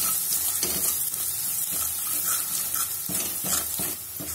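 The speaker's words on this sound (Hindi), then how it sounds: "अब हम इसमें कटा हुआ अदरक डालेंगे और लहसुन डाल देंगे। हल्का सा इसे फ्राई करेंगे" Chopped ginger and garlic fry in a hot pan, a steady close sizzle broken by scraping stirs from a spoon, with no voices over it.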